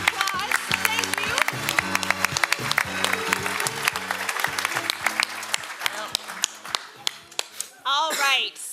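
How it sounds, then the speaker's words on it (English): Audience applause after a contestant's turn at a live game-show event, dense clapping with scattered sharp claps over a musical bed, tapering off with a few final claps before a voice speaks at the end. "Let's give Curtis a round of applause."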